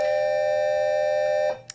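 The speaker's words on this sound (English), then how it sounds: "Sorry, another bell." An electronic school bell rings with a sustained steady tone, loud and continuous, then cuts off abruptly near the end, followed by a brief faint click.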